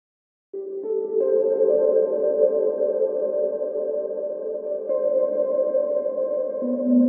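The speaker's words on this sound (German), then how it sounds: "Das sende ich jetzt in den Send, wo zwei Hall-Plugins drin sind von FabFilter, das Pro R." Sustained synth or keyboard chords wash through two FabFilter Pro-R reverb plugins on a send, one very short and one very long, building into a smooth, steady, atmospheric pad that holds evenly with added notes and no speech.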